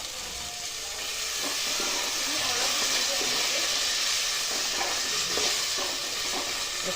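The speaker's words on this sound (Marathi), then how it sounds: "चांगला हलवून घ्यायचं" Mixed vegetables frying in a pan for a Maharashtrian mixed-vegetable meal with masala rice, a steady loud sizzle and hiss with scraping stir strokes throughout, close up and without talk.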